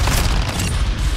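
A grenade explodes in the video game Call of Duty MW2, producing a loud, dense, booming blast that fills the short moment with heavy low rumble and no talk over it.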